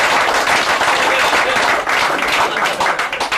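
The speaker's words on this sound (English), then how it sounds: "a round of applause for John." Crowd applause at the prize giving of the 1990 Raleigh MTB Challenge mountain bike race in Kilworth: a dense, steady patter of many hands clapping close by, lasting throughout without a break.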